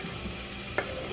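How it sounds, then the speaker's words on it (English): Minced garlic goes into a hot pan and crackles with a brief, soft, steady sizzle and one small clink. It is fairly quiet and has no voices. "I'm just gonna add in my minced garlic"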